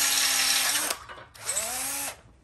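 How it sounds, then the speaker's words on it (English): A power drill with worn bits bores pilot holes in steel for a 20-ton shop press winch mod, two loud whining bursts with a brief pause between and the motor pitch sagging under load. "Well, I got one pilot hole drilled. These drill bits leave a lot to be desired."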